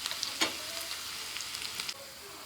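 Green chili and shallots, added after mustard seeds and curry leaves, fry in hot oil for a Kerala-style green gram and coconut gravy, giving a steady close sizzle with a few sharper crackles and pops, no talking.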